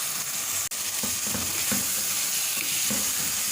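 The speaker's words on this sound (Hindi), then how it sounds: "मसालों को भी मिक्स कर लेंगे इसमें।" Spices being stirred into chicken curry in a hot pan, a continuous sizzle with soft scraping strokes of the spoon repeating every half second or so, close and moderately loud.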